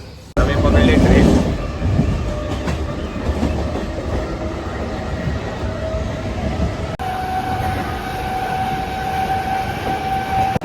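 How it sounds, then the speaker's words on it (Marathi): Riding an Indian Railways train, a loud rolling rumble with rattling wagons and clickety-clack runs throughout, a sustained tonal whine rising in the second half, and voices chatting underneath. "आम्ही पकडली ट्रेन."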